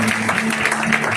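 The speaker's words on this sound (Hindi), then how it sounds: "ताली बजा के प्रभु धन्यवाद।" Church congregation at a Sunday prayer service clapping together in thanks, a brief burst of close, steady handclaps mixed with a sustained tone and voices.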